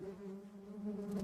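Steady droning buzz of bees holding a constant pitch throughout, fairly loud and close with slight swells, no voices.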